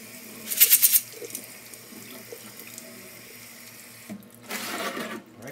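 Running tap water splashes over LECA clay beads being rinsed in a sink, with bursts of loud flow near the start and again toward the end, and quieter dribbling between.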